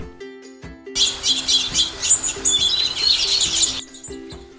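Small birds chirp and tweet in a busy, continuous run of high calls lasting several seconds, fairly close and clear, with no talking.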